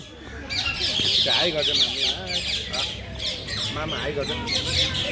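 Many birds screech and squawk continuously in a bird enclosure at Central Zoo, Nepal, loud, dense and overlapping, with people chatting nearby throughout.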